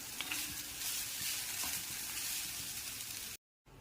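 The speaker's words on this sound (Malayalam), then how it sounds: "ഇനി ഇത് നല്ലോണം വറുത്തെടുക്കാം." Ground chutney of dried red chillies and curry leaves fries in a pan with a steady, dense sizzle for several seconds. It cuts off briefly near the end and then resumes. No one speaks over it.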